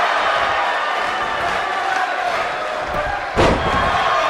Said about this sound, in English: Impactful slam.